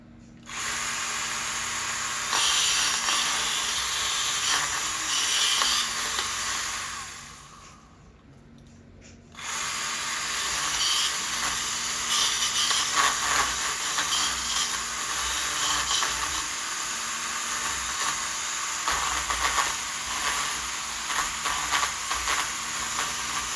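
Dead wood being sawn on a bald cypress bonsai, a steady rasping hiss of cutting that runs nearly throughout, with a short pause in the middle before the sawing resumes at the same level.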